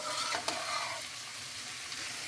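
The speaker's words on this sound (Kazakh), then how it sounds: "Жақсылап қызартып қуырамыз." Vegetables, tomato among them, sizzle and fry steadily in a pan for pea soup, with a few brief stirring clinks. The sizzle is close and continuous with no talking.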